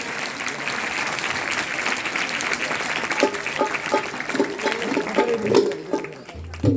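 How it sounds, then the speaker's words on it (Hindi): An audience at an Arya Samaj Vedic bhajan gathering at a gurukul claps together, a dense, steady applause that carries on for several seconds and then breaks up into scattered claps as it dies away. "सारे बजाओ एक बार, जाटा से उतरेगा, ताली बजाओ।"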